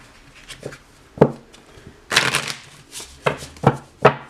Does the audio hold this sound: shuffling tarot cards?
yes